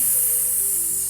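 A voice imitating a snake's hiss for the letter S in a children's phonics lesson: one sustained, steady, bright hissing breath held for about a second, close and fairly loud.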